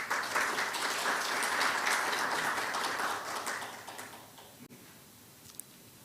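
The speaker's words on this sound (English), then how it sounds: "Please welcome him with a big round of applause." Conference audience applause welcoming a keynote speaker, a sustained crowd of clapping at moderate distance that tapers off and dies away, leaving near silence with a faint click.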